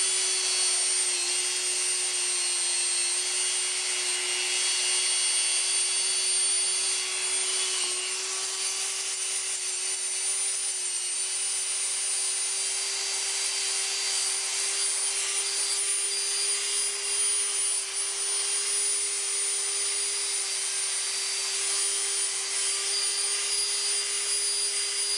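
A steady, high-pitched whine of a drill boring continuously into a Nerf dart, holding one even tone with a gritty hiss on top, no talking.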